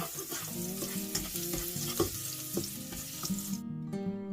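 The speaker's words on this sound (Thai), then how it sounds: "ก็ตั้งกระทะใส่น้ำมันให้ร้อนแล้วก็เอากระเทียมลงไปเจียวให้หอมค่ะ" Garlic crackles and sizzles steadily in hot oil in a pan, with a few soft stirring knocks and clinks over the frying.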